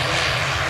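An Aer Lingus Regional ATR 72 turboprop airliner arriving at Manchester Airport makes a loud, steady engine roar and broadband rush that fills the whole stretch with no voices.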